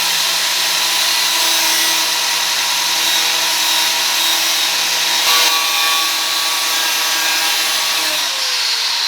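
A sanding disc grinds steadily along the cut inside edge of a trimmed Lexus SC300 front fender, a loud, continuous abrasive whine with a bright metallic rasp that holds for the full stretch.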